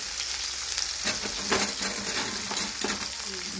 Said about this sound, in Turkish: Soğanlar dediğim gibi pembeleşinceye kadar kavurmaya devam edeceğiz.